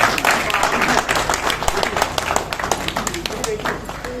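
Hall audience at an Independence Day foundation event breaks into loud, dense applause for a student being honoured, a steady wash of many hands clapping with some crowd noise mixed in.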